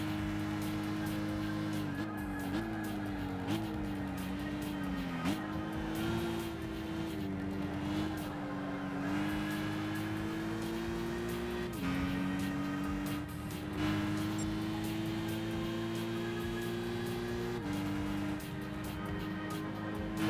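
Race car engines in the Gran Turismo 5 video game drone steadily at high revs, with repeated pitch jumps at gear shifts and other cars faintly nearby.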